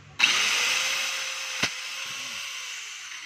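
Noisy DeWalt DWE8200S 4-inch angle grinder kicks on abruptly and runs with a steady high whine and hiss. A single sharp tick sounds partway through, close and without speech.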